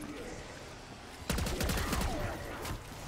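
Rapid automatic gunfire in the Black Ops 6 Zombies game, a dense burst of shots starting partway through and continuing loudly to the end, with game sounds underneath.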